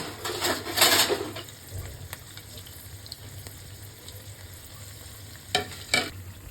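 Coriander leaf pakora fries in a pan, giving a steady soft crackle and sizzle, with louder bursts of stirring or turning at the start and near the end.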